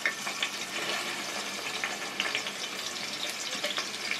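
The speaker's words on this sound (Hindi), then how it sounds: "यहाँ पे 3 बड़े साइज की प्याज ऐसे स्लाइस काट लिया है, इसको पहले डालकर फ्राई करेंगे।" Three large sliced onions fry in hot oil for a Khichda, a steady, close sizzle and crackle that fills the whole clip with small pops scattered throughout.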